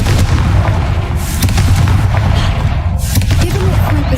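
The Confringo fire spell exploding in Hogwarts Legacy on hard difficulty, a loud, continuous booming roar with deep rumbling blasts that fill the whole clip.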